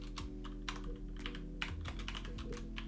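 Quiet typing on a computer keyboard while writing an anime script, with irregular clusters of soft key clicks and brief pauses, close and alone.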